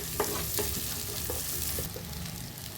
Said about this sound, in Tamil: வெங்காயத்தை நல்லா வதக்கிடுவோம்.